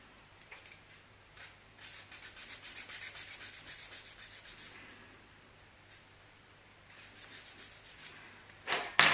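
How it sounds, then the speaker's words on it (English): A small 3D-printed lever about 1.2 mm thick being filed to fit, giving quiet, soft rasping strokes in a steady run. The strokes fade through the middle and return, and a sharper scrape comes at the end. "Just by filing a little bit, the lever fits inside."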